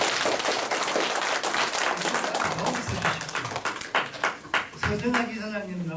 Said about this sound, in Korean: 오늘 유익한 강의를 해주신 김선웅 박사님께 큰 박수를